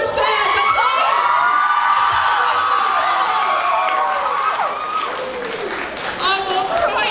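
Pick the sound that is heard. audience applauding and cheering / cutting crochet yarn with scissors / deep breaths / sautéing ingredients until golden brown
audience applauding and cheering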